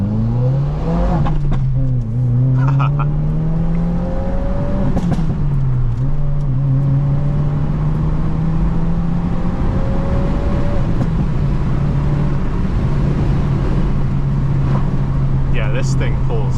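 2023 Subaru WRX making 300 wheel horsepower, heard from inside during a drive: loud engine pulls rising through the gears with shift dips between them, then settling into a steady drone, with people talking over it.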